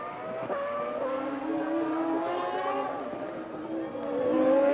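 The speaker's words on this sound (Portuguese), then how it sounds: "A velocidade, a aceleração total, o giro do motor lá em cima." A Formula 1 car's engine screams at full acceleration during the 2000 United States Grand Prix, a sustained high-pitched whine climbing in pitch with other cars audible, as a commentator talks over the race broadcast.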